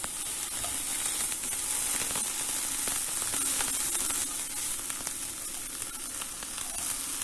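Grated ginger and chopped garlic sizzle steadily while frying in a pan, a dense continuous hiss with faint stirring crackles, close and fairly loud, with no talking.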